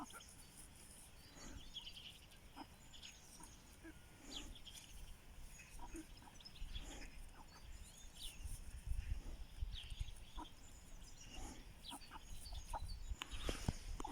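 Young chickens and a rooster cluck and call softly in a farmyard. Scattered short clucks and chirps sit over a low, faint background rumble that grows a little busier toward the end.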